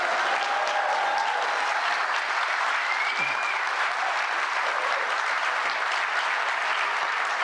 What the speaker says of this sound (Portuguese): novamente pedir uma salva de palmas ao nosso líder Luiz Inácio Lula da Silva